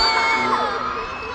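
Concert fans shriek and cheer in a dense, high-pitched crowd roar, sustained and fairly loud with whooping voices layered throughout.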